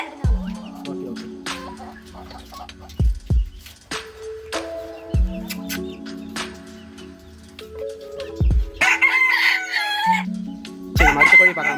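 Chickens and a rooster on a poultry farm, with repeated loud crowing calls and scattered clucking close by, several overlapping, with no talk.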